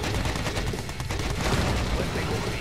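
Chain-bullet gunfire from a turret in the strategy game Red Alert 2 Yuri's Revenge, a loud, unbroken rattle of rapid shots mixed with battle noise, close and sustained.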